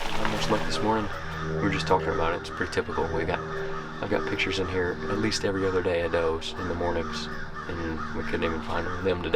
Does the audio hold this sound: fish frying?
no